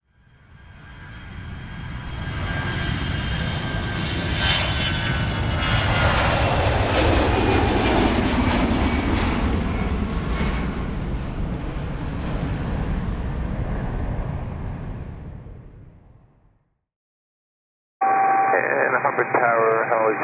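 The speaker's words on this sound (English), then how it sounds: "a freak lightning strike sends the helicopter into a rapid descent" A helicopter roars loudly and swells for several seconds as it descends rapidly after a lightning strike, then fades and cuts off, followed by a brief burst of radio-like sound.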